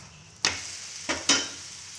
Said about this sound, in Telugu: మనం ఇప్పుడు ఆయిల్ అప్లై చేసుకొని రెండో వైపు తిప్పించుకోవాలన్నమాట